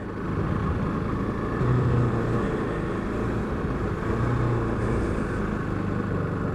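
A KTM RC390 second-generation motorcycle rides through the city of Bath, its engine note steady and continuous with mild swells in revs, held low and close throughout with no talking.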